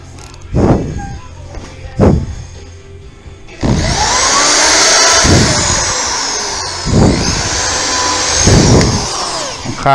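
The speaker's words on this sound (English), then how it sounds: "So I should be able to just drive screws in there." A power drill drives screws into wood on a homemade motorcycle lift table, with several short whirring pulses followed by a longer sustained high drilling whine that rises and falls, close and loud.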